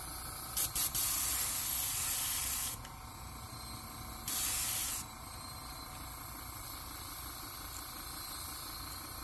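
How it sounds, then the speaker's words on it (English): An airbrush sprays Vallejo color shifter bright gold brown paint onto a green base on an MB S Crank, a steady close hiss broken by short bursts and brief pauses, with no talking. "We're just going to spray that on the green in the middle"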